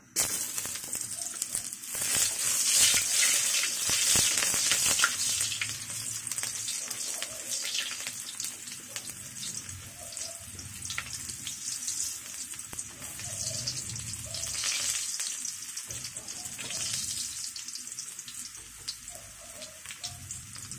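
Ginger pieces go into hot, smoking cooking oil and sizzle steadily, a dense crackling hiss that swells early and then settles into a continuous fry with faint kitchen sounds underneath.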